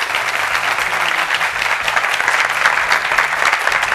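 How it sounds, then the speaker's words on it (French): Sustained, dense applause from a studio audience welcoming a guest onto a youth debate show, steady and loud throughout with no break. "Elle va nous rejoindre sous des salves d'applaudissements"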